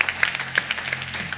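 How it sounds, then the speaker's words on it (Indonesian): A church congregation claps together during a worship service in a brief burst of quick, overlapping hand claps with a roomy echo. "Tepuk tangan sekali lagi buat Tuhan Allah kita."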